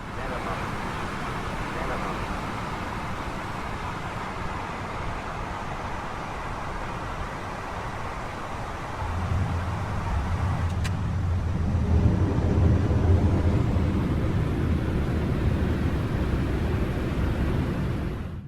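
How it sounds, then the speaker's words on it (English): A Boeing 727 landing in Microsoft Flight Simulator 9 with the CaptainSim add-on: a steady jet rumble with airflow hiss that swells noticeably about halfway through and stays loud to the end. "let's watch the landing from outside the airplane"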